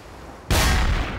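A single loud gunshot in the video game Trouble in Terrorist Town, a sudden close blast that cuts sharply in and then rings briefly as it tails off.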